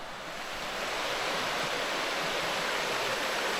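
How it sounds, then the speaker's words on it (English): Steady rushing of running water from small trickling waterfalls along a stream in Wales, heard from a bridge; a continuous close, full broadband wash without pauses or voices. "So there's lots of nice little trickly waterfalls and so on."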